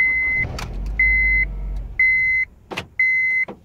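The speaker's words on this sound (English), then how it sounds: "after the car starts and runs just for about 2-3 seconds" A Honda Acura with a flashing green key warning engages its engine, which rumbles briefly and then dies, while a steady electronic chime beeps repeatedly in even pulses, punctuated by a few sharp clicks and thumps close by.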